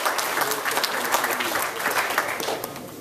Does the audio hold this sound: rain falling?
no